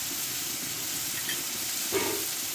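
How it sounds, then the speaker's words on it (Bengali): Spice paste for a Bengali prawn and Malabar spinach curry fries in a pan with a steady low sizzle and hiss, close and even, with a brief stir near the end. "এই মশলাটা আমি একটু টাইম নিয়ে এবার কষে নেব"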